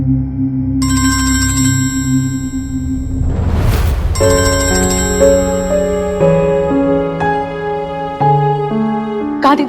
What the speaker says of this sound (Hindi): कितनी देर से मैं तुझे फोन ट्राई कर रही हूँ, फोन क्यों नहीं उठा रही है मेरा?